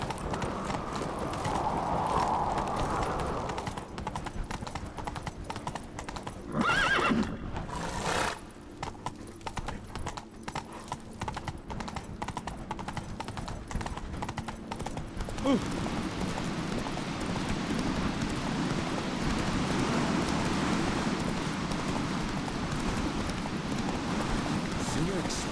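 Roach the horse gallops in The Witcher 3, with rapid hoof clip-clops and occasional whinnies that run steadily alongside a voice talking and calling to the horse.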